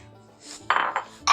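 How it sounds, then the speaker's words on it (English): A lid set onto a pot of chuck roast braising with onions, giving a few quick metallic clanks and scrapes close by, with no talk. "just going to get the lid on it"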